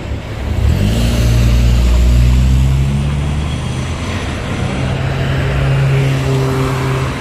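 Car engine droning loudly from inside the moving vehicle, pulling and accelerating with a rising engine tone over steady road rumble, no talk.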